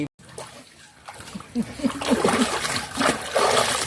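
Water splashes and sloshes in uneven bursts as a lamb's face is washed outdoors, growing louder toward the end, while people talk over it.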